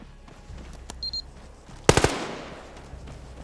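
CQC machine gun fire in a modern military video game: a loud, tight burst of three or four rapid shots around the midpoint, trailing into a decaying echo, with faint beeps and game noise before it.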